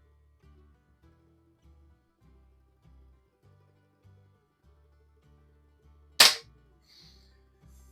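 A single sharp crack from a Feinwerkbau model 65 .177 spring air rifle firing, a loud isolated shot rising out of quiet faint background tapping and clicking.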